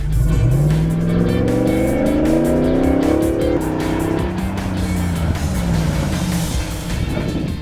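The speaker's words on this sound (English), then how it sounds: "let's see how this Hemi does against the brakes" A Hemi-powered Jeep JK on a test ride after a Dynatrac ProGrip brake kit install: loud engine revving up through rising gears, then hard braking as the engine note drops away, close and continuous with no talk.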